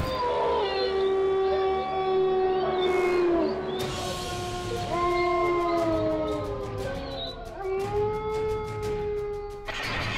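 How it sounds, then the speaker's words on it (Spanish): Several dogs howl together in long, wavering tones over a strange, sustained wail, recorded on a mobile phone in Moñitos, Colombia; the howls rise and fall continuously and stay fairly loud throughout. "acompañada de un extraño lamento que desata el llanto de varios perros"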